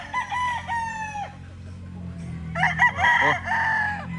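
A Boston Millionaire roundhead gamecock rooster crows twice in quick succession, nearby and clear, while someone talks briefly in the background.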